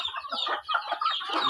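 Pet chickens cluck in a busy, overlapping chatter of short squawky calls, steady and fairly close throughout, with no talking.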